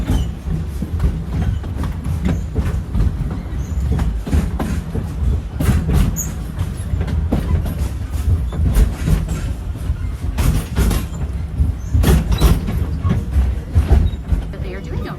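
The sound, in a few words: safari ride train moving along the track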